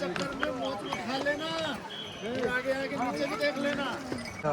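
Horses' hooves clop irregularly on hard ground at a busy horse camp near the snowy Amarnath cave, with many voices talking and calling over the footsteps.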